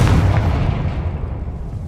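A Confringo explosive spell goes off in Hogwarts Legacy, a loud booming blast with a deep rumbling low end that fades slowly over about two seconds.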